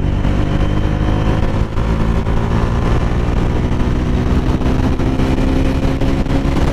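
A Bajaj Dominar 400 motorcycle engine, ridden with 121 km on it, held at high revs as a steady, loud, dense drone, continuous and close for the whole stretch with no pauses.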